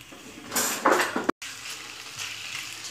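Chicken pieces fry in a pan for a chicken tikka pizza with a soft sizzle, and a louder burst of stirring and clattering rises partway through. After a brief cut the frying settles back to a gentle hiss, and no one speaks.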